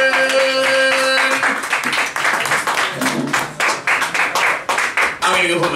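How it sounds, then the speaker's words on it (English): An audience at a comedy night in Richmond, Virginia breaks into loud, close clapping that quickly gets going and continues in uneven bursts, with voices calling out over it. "Give him a round of applause."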